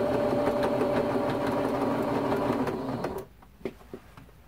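A sewing machine stitches steadily through thick, heavily layered quilt sandwich during machine quilting, a loud continuous motor whir that stops abruptly near the end, followed by a few soft handling knocks.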